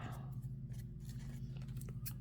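Scissors snip through paper to make a book page tag, a few quick, close clicks and crisp cuts over a low steady hum, with no one talking.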